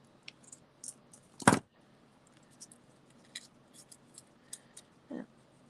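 Scissors trimming a cut paper piece during a watercolour papercraft session, one crisp snip standing out among faint small clicks and rustles, quiet and close with no talk.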